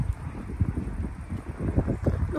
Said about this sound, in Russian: Ветреные, такие ветреные дни у нас в последнее время.